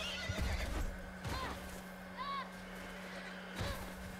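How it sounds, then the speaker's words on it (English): A horse whinnies in the video game The Last of Us, with a couple of wavering neighs and some hoof clatter over a steady low hum. "Shoot the horse."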